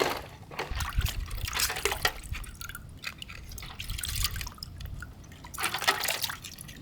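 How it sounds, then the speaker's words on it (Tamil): Giant mud crab being washed by hand in water, with irregular splashing, dripping and trickling throughout, moderately close and without talk. "சரி இல்லாமல் சுத்தமாக கழுவி எடுத்துக்கா."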